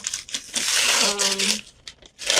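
Studio art paper is handled and crinkled, giving bursts of close, loud rustling and crumpling interspersed with brief pauses, with a voice also heard.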